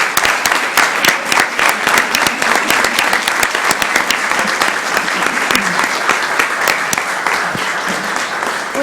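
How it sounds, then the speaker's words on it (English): Sustained audience applause fills a city council chamber after a proclamation honoring a lieutenant, dense steady clapping from a crowd lasting throughout at fairly loud level. "let's give him a round of applause"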